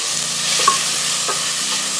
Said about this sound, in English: So we're sauteing of the vegetables